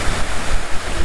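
Roar of waterfalls beside water while crappie fishing, a loud, steady broadband rush with wind buffeting the microphone, no talk.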